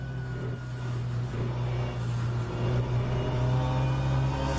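Onboard engine note of a race car in a Le Mans Virtual Series sim racing game at Spa, a steady loud droning hum with strong low harmonics, holding constant throughout with slight pitch shifts and no voices.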